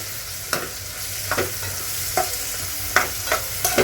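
Vegetables frying in a pan give a continuous close sizzle, broken by several sharp spatula scrapes and knocks against the metal at uneven intervals, with no voices.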